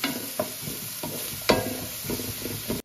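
Chopped green chili, garlic and onion sizzle in coconut oil in a pan as they are stirred, with a steady close frying hiss broken by a few scraping strokes of a spoon.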